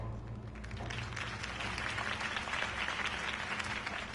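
A crowd applauds loudly and steadily after a campaign speech, the dense clapping holding level for several seconds without any voices on top.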